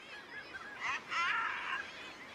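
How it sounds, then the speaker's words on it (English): Seabirds call at a breeding colony on Hornoya Island, Norway, a short burst of harsh honking cries rising near the middle, then a longer chorus, fairly faint with no talk. "Seabirds are able to live on high seas, but during breeding season, they must nest here, on dry land."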